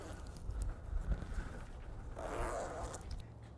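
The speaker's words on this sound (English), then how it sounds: "just zip everything back up" A Bestop Trektop NX soft top on a 1997–2006 Jeep Wrangler is zipped closed in several raspy zipper pulls of varying speed, heard close up over low background rumble.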